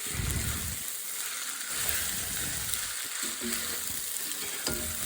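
Mee goreng frying hard in a hot pan while being stirred, a steady close sizzle broken by scraping, shuffling stir strokes, with no voices.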